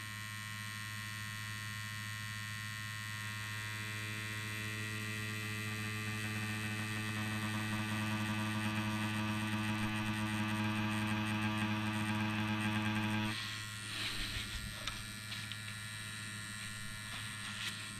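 A Dragonhawk Mast Fold Pro rotary tattoo machine with a 3.6 mm stroke runs with a steady, close electric hum and buzz for about 13 seconds, then cuts off into quieter handling noise.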